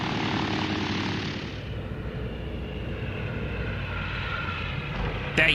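Steady droning airplane engine, a broad roar that holds constant throughout, fairly loud and close, with no other distinct sounds.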